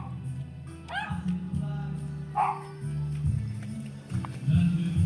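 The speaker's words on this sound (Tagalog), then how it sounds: "Tignan mo, may aso doon, oh." A dog gives a few short yips and whimpering barks at a distance, partly mixed with low background noise and some faint voices.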